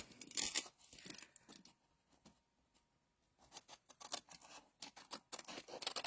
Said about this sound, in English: So I'm going to cut along the score line